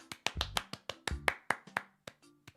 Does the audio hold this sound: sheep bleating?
no